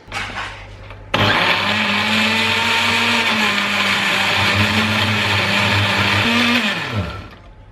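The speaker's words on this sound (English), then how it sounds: "And we're gonna cover this and blend slowly for about a minute on low." A blender starts up abruptly and whirs at a steady low speed for several seconds, then winds down and stops.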